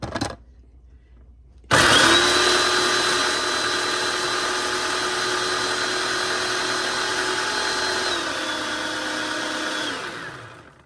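A blender grinding sweet banana peppers into flakes starts abruptly and runs as one long steady whine for about eight seconds before slowing down, loud and close with no talk.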